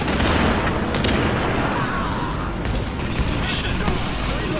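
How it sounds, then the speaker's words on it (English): Shotgun blasts in the video game The Division, booming a few times amid dense, continuous combat noise and other gunfire, with talk mixed in. "Why am I using my shotgun in this range?"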